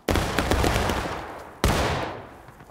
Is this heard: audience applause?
no